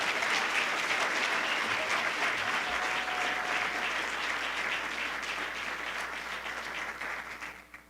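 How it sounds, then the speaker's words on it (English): Sustained applause from a gala audience honoring courageous people at a New Year's event, dense steady clapping that carries on for several seconds before fading out at the end. "Let's give all of these courageous people a round of applause"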